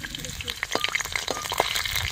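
Chillies dropped into hot oil, a loud close sizzle with bursts of sharp crackling and spitting pops that swell and settle over a couple of seconds.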